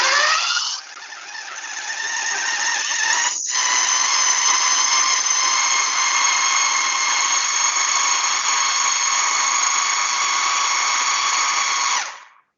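A blender whirs loudly and steadily for about eleven seconds, mixing an apple, oats and olive oil bar batter, with a brief dip near the start before cutting off at the end.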